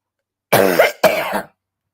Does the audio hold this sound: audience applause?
no